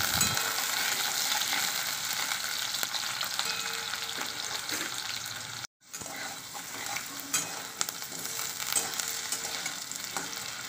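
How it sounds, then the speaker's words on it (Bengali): Diced potatoes frying in oil already used for frying lentil dumplings, a continuous close sizzle with occasional stirring clinks and a brief dropout just past the middle. "এবার ওই বড়ি ভাজা তেলেতেই দিয়ে দেবো ডুমো ডুমো করে কেটে রাখা আলু"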